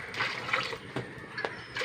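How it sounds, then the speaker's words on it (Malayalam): Water is poured into a cooking pot of peanuts being readied for boiling with salt: a continuous close splashing trickle with a few brief louder gushes, and no talking. "കുറച്ച് വെള്ളം ഒഴിച്ചെടുക്കുക."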